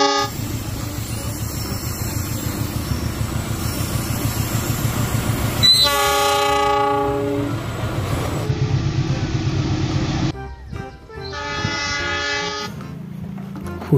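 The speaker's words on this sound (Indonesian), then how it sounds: "Ini lokomotif" A CC-01 locomotive runs in a video game with a constant loud rumble of wheels on rails, broken by two long, layered horn blasts in the second half.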